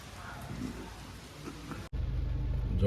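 Steady rain falls at Saputara, a foggy hill station in the monsoon, as a constant close hiss. It cuts off abruptly midway, then returns with a louder, heavier low rumble.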